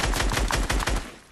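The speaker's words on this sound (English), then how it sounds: "So we have the assault rifle. I'm gonna just shoot the other guy," Rapid automatic fire from the SKYES mythic assault rifle in a video game, a quick burst of about eight loud, sharp shots in close succession with a short tail.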